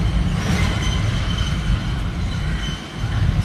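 A train at Kolkata station heard from a seat aboard, a loud, steady rumble of wheels and carriage noise with a constant rolling roar from start to end.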